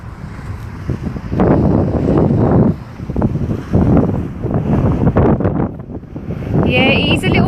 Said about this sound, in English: The wind's picked up quite a bit.